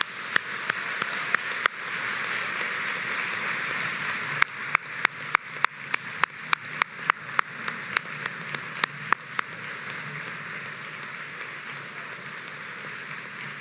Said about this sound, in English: Please give a round of applause for those outstanding students and their incredible ambitions.